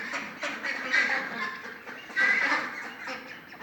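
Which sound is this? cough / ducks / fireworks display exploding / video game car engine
ducks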